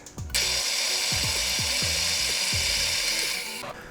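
An espresso coffee grinder runs steadily with a dense, whirring grind, broken by a few rhythmic clicking thumps near the start, then winds down at the end; close and alone, no talking.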